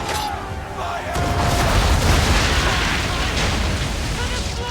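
Ship cannons firing a broadside in Assassin's Creed III, a loud, sustained rumbling roar of overlapping booms that swells after the first second and stays dense throughout.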